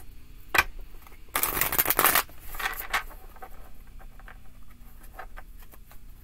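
Tarot cards being gathered and squared back into order, a dense riffling flutter of card edges for about a second, then lighter taps and shuffles, close and fairly quiet with no talking.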